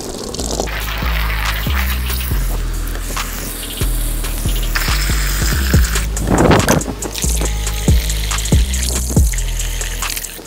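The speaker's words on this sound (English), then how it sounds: "All right, let's fill it up with some water." Tap water runs steadily into a container being filled for hydro dipping football boots, a continuous splashing gush broken by several sharp knocks and thumps.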